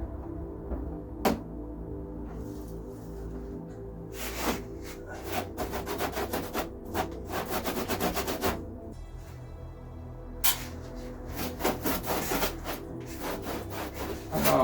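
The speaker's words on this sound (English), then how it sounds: "I'm just going to give this a quick wipe over under here, a few little bits of dirt and stuff I don't want in between the chassis and the" Rubbing and wiping strokes on the underside of a Reliant Regal Supervan 3 chassis come in irregular bursts of scraping friction, close by and moderately loud, with short quiet gaps between them.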